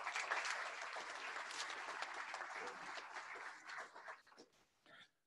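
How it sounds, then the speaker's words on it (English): Warm crowd applause at the dedication of a hospital critical care pavilion and heart center, full and steady at first, then breaking into scattered claps that fade out. "give yourselves a round of applause,"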